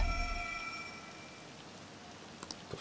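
Rain falls in the video game Persona 5 Royal, a steady soft hiss of rainfall under a fading musical tone, with a few sharper clicks near the end.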